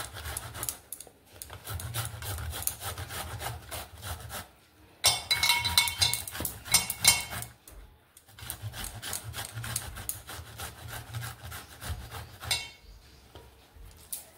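Bottle gourd (lauki) is rubbed against a hand grater in a kitchen, giving repeated soft rasping scrapes in uneven bursts with brief pauses and a few faint clinks, quiet and close.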